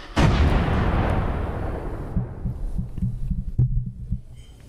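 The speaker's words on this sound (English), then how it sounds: "The scoreboard is getting exploded. The seats are getting exploded." A big explosion tearing through a stadium scoreboard and seats in Fortnite, a sudden loud blast with a long rumbling decay, followed by scattered thuds of smaller detonations and debris.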